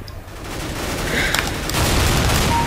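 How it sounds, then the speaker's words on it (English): A shotgun fires in Counter-Strike: Global Offensive during an Arms Race match, with loud booming blasts rolling over dense battle noise that swells louder in the second half. "this is the best shotgun"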